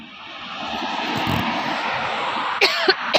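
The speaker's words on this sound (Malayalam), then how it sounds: "ചുമയ്ക്കുന്നു." A person coughs at a roadside bus stop under a tree, a few short, sharp coughs near the end over a steady, loud engine-like roar.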